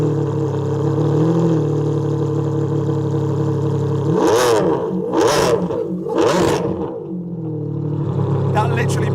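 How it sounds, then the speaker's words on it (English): A straight-piped Ferrari Enzo engine starts and idles with a rough, loud drone, then three sharp revs in quick succession that crackle and settle back to idle, with talk from people nearby. "I promise you guys I'll let you hear it start"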